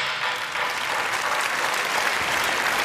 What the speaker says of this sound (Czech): obrovský potlesk pro vás